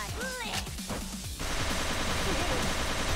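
Gunfire attack in the turn-based game Yakuza: Like a Dragon, with a busy run of sharp shots and impacts, then a dense, steady rattle of fire, while someone talks over the start.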